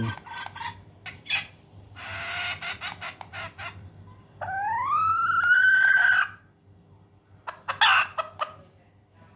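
Recorded chicken and rooster calls play from a remote-controlled speaker: bursts of clucking, a long rising crow in the middle and further clucks after it, loud and close against a quiet low hum.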